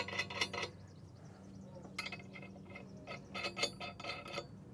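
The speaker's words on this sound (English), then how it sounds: "I'm going to go ahead and put these washers facing in on this side as well, followed by our nylock nut here" Small metal washers and a nylock nut clink and rattle as they are fitted onto a Curt TruTrack 2P weight distribution hitch, a few close, bright metallic taps and scrapes in short bursts.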